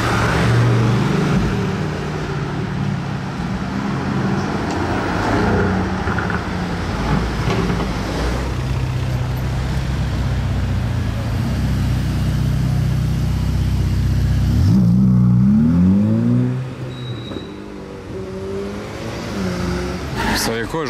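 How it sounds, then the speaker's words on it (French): A Mercedes-AMG GT R convertible with a V8 engine drives by in a busy street setting, its engine loud amid traffic rumble before a rising rev sweep near the end, with people talking nearby. "AMG GTR cab."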